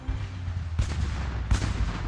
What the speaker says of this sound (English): French cannon fire erupted.